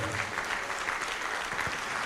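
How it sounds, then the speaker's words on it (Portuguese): A church congregation applauds together for Jesus in a short burst of dense clapping at moderate level. "Vamos aplaudir a Jesus por cada pessoa que está vindo"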